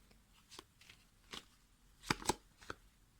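Tarot cards being shuffled and drawn produce a few soft, quiet swishes followed by two crisp, close card snaps near the end.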